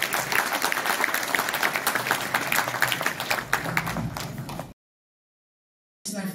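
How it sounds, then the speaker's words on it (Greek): An audience at a community association's New Year pie-cutting event claps loudly and steadily for several seconds, then stops abruptly into silence before a brief burst returns. "σε ένα χειροκρότημα για αυτούς"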